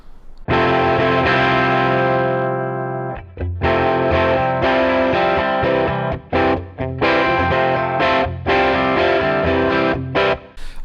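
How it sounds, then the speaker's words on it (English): A slightly gritty electric guitar at edge-of-breakup overdrive through an Origin Effects Deluxe55, guitar volume turned down, rings out a long chord, then plays choppy, stop-start strummed chords with abrupt silences between them. "I'm turning the volume control on the guitar down for an edge of breakup type of sound"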